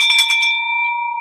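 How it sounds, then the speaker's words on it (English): A single bell is rung to celebrate a real estate deal, a bright clang with a few quick strikes at first, then one clear ringing tone decaying slowly and loudly on its own. "Let's ring that bell for that young man."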